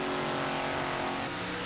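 A Race Masters chassis rear-engine rail dragster at a 1994 drag event roars loudly and steadily at high revs, a dense continuous engine blare.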